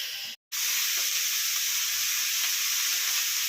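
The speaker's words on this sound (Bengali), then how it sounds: "মাছ ভাজবো, মাছটা ঝাল করব" Fish fries in a pan of hot oil for a spicy Bengali dish, a loud, steady close sizzle with a brief silent gap near the start.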